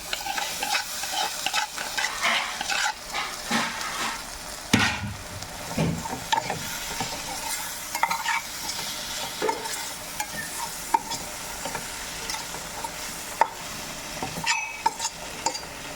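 Chinese potato (koorkka) being stir-fried in a pan with garam masala, a steady close sizzle broken by repeated scraping and clattering stirs of a spatula, with no talk.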